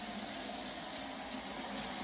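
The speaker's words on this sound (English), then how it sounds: "I'm going to fill my bucket now with hot water" Hot water running steadily from a tap into a mop bucket, a constant rushing hiss heard alone and close throughout.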